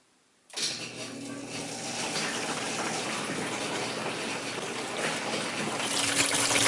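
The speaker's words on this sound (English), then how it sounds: "when I turn on the pump it'll transfer water" A pump in a saltwater mixing station switches on and drives RODI water through, giving a sudden loud, steady rushing gush that holds near and constant, swelling slightly toward the end.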